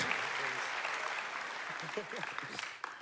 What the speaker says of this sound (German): Lass uns einen Applaus geben.